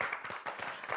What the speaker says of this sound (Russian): Давайте встречать их аплодисментами.